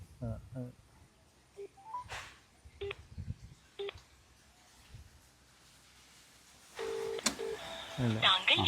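Phone keypad tones and short electronic beeps from a call placed to a GSM-based remote controller that switches on a water pump motor, coming as spaced bursts with brief speech and rustling between them.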